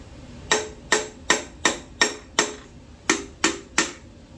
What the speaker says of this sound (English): this piston right here is coming out pretty easy, so let's go ahead and get it out